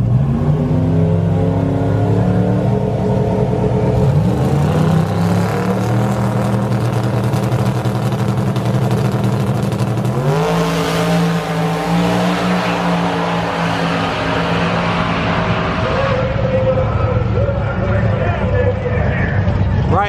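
Ford Mustangs, an older and a newer model, rev and accelerate nearby, engines climbing and dropping in repeated surges over a loud crowd babble, with voices talking throughout.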